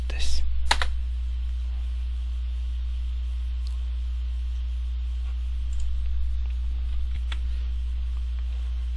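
A few sharp key clicks on a computer keyboard near the start, then sparse faint taps over a steady low electrical hum and background hiss.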